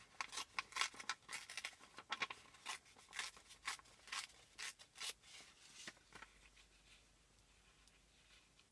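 Scissors snip through a paper card tag made with napkin and digital-image embellishments, a run of close, crisp cutting strokes in an uneven rhythm that thins out toward the end.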